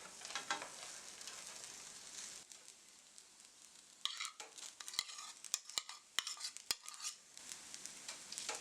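Shrimp tossed back into fried rice and stir-fried in a pan with soy sauce, giving a steady low sizzle with scraping stirs and several sharp utensil clicks against the pan in the second half.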